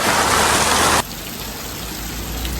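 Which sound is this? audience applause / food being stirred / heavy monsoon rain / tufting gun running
heavy monsoon rain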